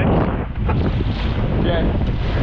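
A boat pounds through rough, choppy sea on a commercial mahi fishing trip, with steady loud wind buffeting the microphone and water rushing and splashing throughout.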